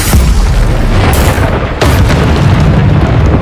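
Confringo fire spell blasts in Hogwarts Legacy, a fantasy video game: two loud, close booming explosions about a second apart over a dense, rumbling roar, with no talk.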